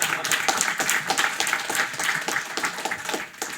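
A conference audience at a programming-language talk claps together, a dense, steady burst of applause of many hands lasting several seconds before starting to fade, with no talking over it.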